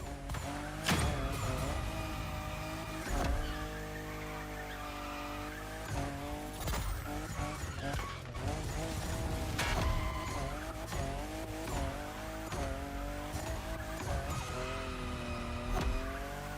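A car drifting in the racing game The Crew Motorfest, with long, wavering tire squeal over a revving, shifting engine. The loud, continuous skid keeps going without a break.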